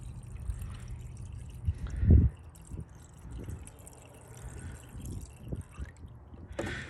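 Water poured into the radiator of a 2013 Nissan Altima to top it off, a soft close gurgle and trickle with a brief louder splash before settling into faint dribbling.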